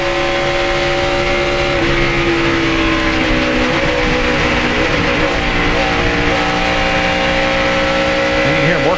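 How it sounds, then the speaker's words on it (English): NASCAR race car engine on track during a race, loud and close, with the driver working the throttle so the revs swell and drop in steady tones. "And you can hear him working the throttle."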